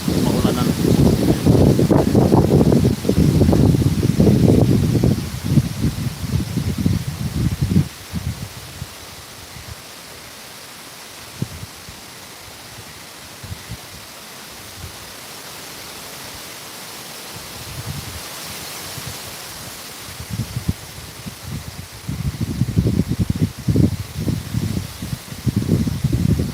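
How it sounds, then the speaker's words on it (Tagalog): Strong typhoon wind in Borongan batters the microphone in heavy roaring gusts at the start and end, easing to a quieter rush with faint crackles in between. "Yan, umpisa na ng hangin. Medyo malakas-lakas na rin."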